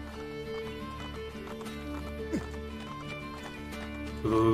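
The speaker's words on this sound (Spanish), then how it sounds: "Hay que buscar el caballo." A horse in the video game Assassin's Creed Brotherhood clip-clops and whinnies over a steady backdrop of game music and ambience, with a sharp neigh partway through and louder hoofbeats closing the clip.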